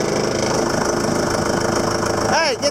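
A John Deere 6200 tractor's diesel engine runs rough and knocking, a dense steady mechanical clatter held throughout at close range, with a brief rising whine near the end.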